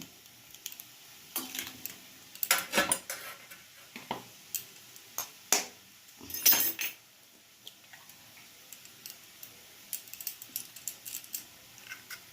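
Two eggs cracked into a bowl for cornflour batter for chicken rolls, heard as a string of sharp clicks and taps of shell and utensil against the bowl, close and fairly quiet, with a busier cluster of knocks in the middle.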